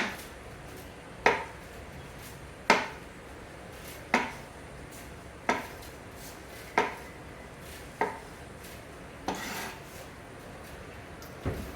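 A knife slicing Kalamata olives on a cutting board for a Mediterranean salad, giving about nine crisp, evenly spaced chops at a moderate volume with quiet gaps between them.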